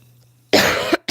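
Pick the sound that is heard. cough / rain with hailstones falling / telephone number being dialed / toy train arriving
cough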